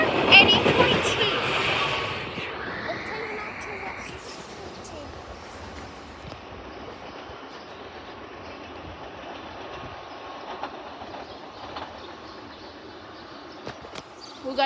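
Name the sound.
trains passing at Elkins rail yard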